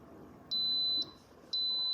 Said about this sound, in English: it's beeping, so it's on now